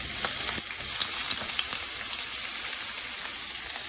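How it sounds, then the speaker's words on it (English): Kielbasa sausages fry in hot oil in a pan, giving a steady, close sizzle and crackle with scattered pops across the whole stretch and no talking. "we want to always start off with a nice hot pan, nice hot oil, right? Drop in our sausages"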